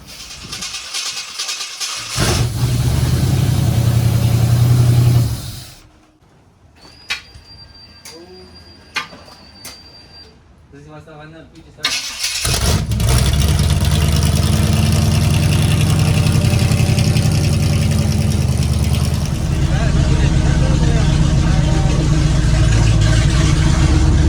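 Chevrolet C10 pickup truck with a Holley EFI system, its engine running steadily and loudly, idling and revving, with a break in the middle where the engine drops out and lighter clicks and noises take over.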